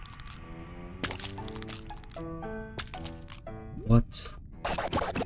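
Sudden crackling burst of an explosive alien blowing up in a modded Minecraft game, one brief blast amid layered tonal game sound effects, with a voice talking over it.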